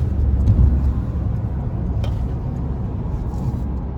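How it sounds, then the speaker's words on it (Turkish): A car drives along with a steady, loud low rumble of engine and road noise heard from inside the vehicle. The rumble is continuous throughout and no one talks. "Şöyle arabanın içinde götürüyoruz."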